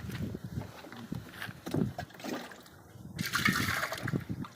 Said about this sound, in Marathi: इथं असं याच्यात भरून ठेवलं पाणी पाणी भरतं